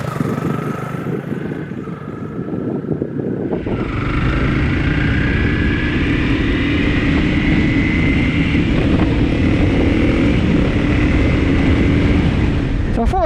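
Honda CRF300 Rally motorcycle ridden on a road, its engine droning steadily close by and rising in pitch under heavy wind buffeting across the microphone.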